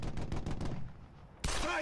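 A quick burst of about six rapid gunshots in Brothers in Arms: Hell's Highway, fading into quiet echo, then a single sharper crack cuts in near the end; faint and close.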